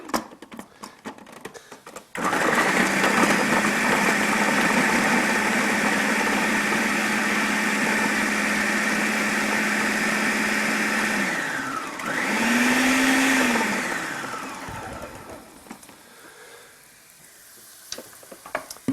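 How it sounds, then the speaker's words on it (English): A food processor runs continuously, whirring loudly as it chops celery for curry pumpkin soup, with a steady motor drone that briefly dips and rises in pitch near the end before winding down. "I'm going to drop these in the food processor right now. And I'm going to tear them up."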